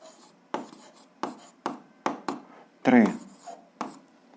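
Answers to an algebra exercise being written out: a series of short, scratchy strokes at a steady pace, each a brief burst, with a voice briefly speaking near the end.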